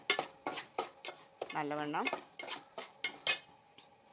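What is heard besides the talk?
roasting semolina (rava) in a pan, stirring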